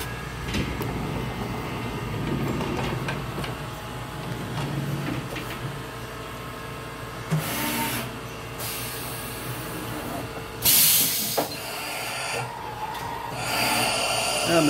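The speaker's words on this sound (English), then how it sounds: "machine stops when it gets to the tap. I got to put oil on the tap." Milling machine running and tapping metal parts in a machine shop, a steady mechanical drone with intermittent louder bursts and clanks, fairly close, with a voice briefly audible.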